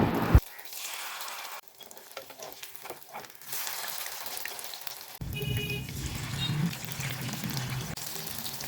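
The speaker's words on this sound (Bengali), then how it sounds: "এবার সিমগুলো ব্যাটারে চুবিয়ে একে একে কড়াইয়ে ছেড়ে দেবো" Flat beans dipped in gram flour batter are dropped one by one into hot oil in a wok, with a quieter crackle at first that swells into a louder, steady sizzling frying hiss.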